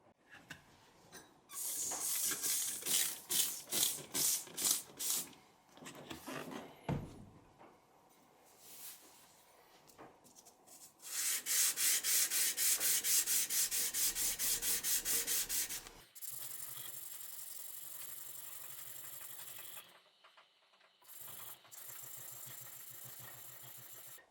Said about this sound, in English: So I'm gonna smooth it out a little bit on my flattening stone.